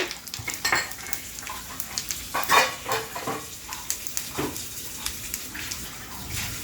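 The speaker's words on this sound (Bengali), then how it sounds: "মৌরি ফোড়ন দিয়ে এটা ঢেলে দেবো আদা মতো মৌরি ফোড়ন দিলাম" Fennel seeds and ginger hitting hot oil, a crackling sizzle with repeated stirring scrapes and pan knocks, close and moderately loud.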